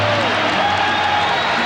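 A basketball arena crowd at the United Center gives a standing ovation, a dense, loud wash of applause and cheering, close and sustained throughout.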